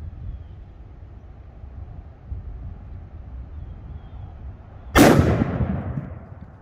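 A single loud gunshot from a .500 revolver firing a heavy 520-grain Bushwhacker lead bullet, a sharp close blast at an outdoor range that decays over about a second after quiet wind noise.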